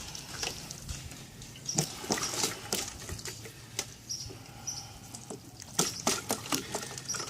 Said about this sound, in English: I'm going to put a gallon of water through the drain